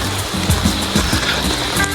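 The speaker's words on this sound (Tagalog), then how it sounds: "maulan na kami, guys. Ulan na kami." Rain falls steadily near the Malatan-og Falls, a dense, loud wash of drops with close hissing texture and faint low thumps, continuous and without talk.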